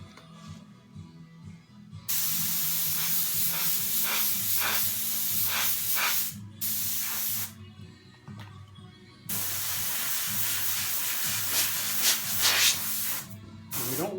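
An Iwata LPH 50 airbrush spraying paint onto a Harley motorcycle fender, giving a steady airy hiss that starts and stops in several long bursts with short quiet gaps, close and without any talking.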